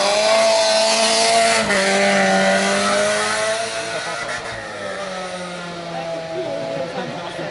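A Volkswagen Golf GTI race car sits at the start of a historic hill climb at Salins-les-Bains, its engine droning loud and close with steady harmonic tones that shift in pitch over broad background noise.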